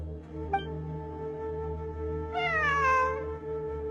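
A single clear meow from a cat in the Genshin Impact video game rises over a steady, humming background tone, preceded by a faint brief click.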